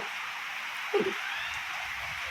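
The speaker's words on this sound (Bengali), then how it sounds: "রোদ আসতে বৃষ্টি হইতেছে ভালো লাগতেছে" Soft, steady rain patters in the background while the sun is still out, with one brief low thump partway through.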